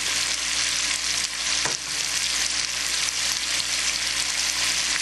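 Garlic, cherry peppers and onions frying in a pan, a loud, steady sizzle with scraping stirring strokes close by, continuous and without talk.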